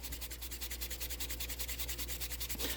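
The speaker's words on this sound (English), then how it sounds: "it's going to take me a little while to get this thing sanded down enough to where I can apply my rust sauce" Steady rhythmic rubbing of sandpaper on a 1/24 scale drift car body, fast even back-and-forth strokes heard close up with no talking.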